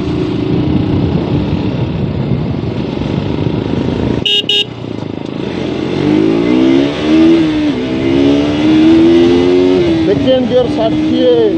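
A KTM RC200 BS6 motorcycle accelerates hard through its gears, the loud close engine whine climbing in pitch, breaking briefly at a shift, then rising again, with a voice audible over it.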